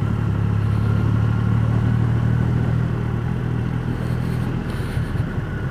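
A Triumph Rocket motorcycle on the move, its engine a steady low drone with whir and wind rush, holding at constant loudness throughout.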